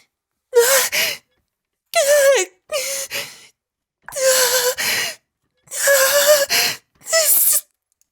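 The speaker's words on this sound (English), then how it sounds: "All that could be heard were the sounds of Ayase's labored breathing" A young woman character in the video game Chaos;Head Noah breathes in a laboured way: six close, loud, voiced gasps and panting moans in quick bursts with short silences between them.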